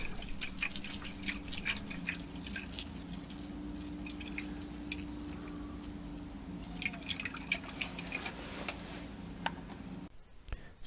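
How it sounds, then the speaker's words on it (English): Water trickles and drips steadily onto compost in a seed tray, a soft patter of many small droplets with faint squishing, continuing at an even pace before stopping abruptly. "Give the compost a good watering."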